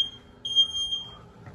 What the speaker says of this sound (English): the smoke alarm's still going off